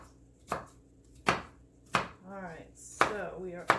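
A knife chops an onion on a cutting board in six sharp, evenly spaced thuds close by, with a voice speaking briefly between the later strikes.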